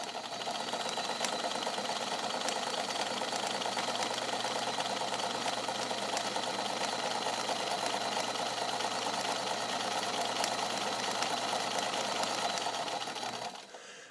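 A vintage all-metal Italian Necchi BU Nova zigzag sewing machine stitches slowly with a very short stitch, a steady close mechanical whir and rapid needle ticking running unbroken until it stops near the end.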